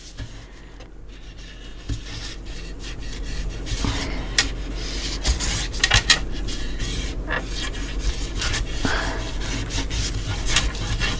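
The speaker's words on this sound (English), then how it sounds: "Let's go ahead and get some burnishing done down now." Paper on a mini album page is burnished with a tool, giving soft, uneven rubbing and scraping strokes that come close and steady for several seconds.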